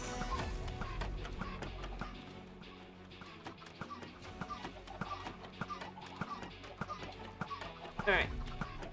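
Chickens clucking in the video game Minecraft, short repeated clucks scattered across a steady layer of game sound and music, with one louder burst near the end.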